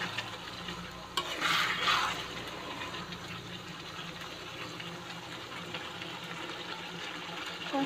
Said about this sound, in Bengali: তো দিয়ে আমি পটল, আলু, চিংড়িটা দিয়ে দিয়েছি, এটা কষাচ্ছি।